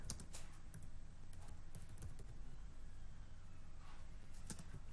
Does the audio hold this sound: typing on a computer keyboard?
yes